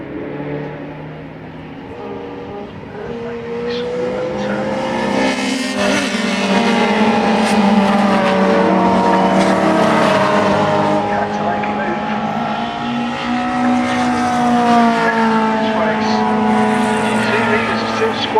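Race cars in a Sevenesque race pass at speed, a loud sustained engine roar that swells and holds as they cross the start-finish line, with a commentator talking over it.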